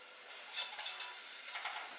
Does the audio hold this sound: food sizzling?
yes